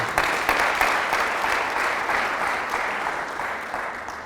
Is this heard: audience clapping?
yes